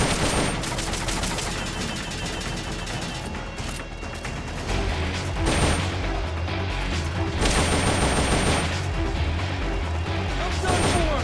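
Bursts of rapid gunfire aimed at an exposed red fuel tank in Metal Gear Solid: Peace Walker, loud and choppy with crashing impacts between volleys, and a voice speaking amid the shooting.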